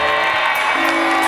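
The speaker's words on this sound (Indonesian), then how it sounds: "kita tepuk tangan juga dong untuk keluarga Saiful" A studio audience on the game show Family 100 applauds and cheers in a continuous, loud burst of clapping.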